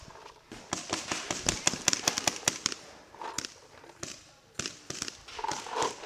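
Paintball guns fire on an outdoor field after rain, sharp snapping shots in rapid clusters and scattered single pops, some close and some farther off, with no talk.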